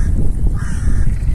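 Gulls calling over the sea on a windy, overcast day, a short burst of harsh cries in the distance above steady wind rumble.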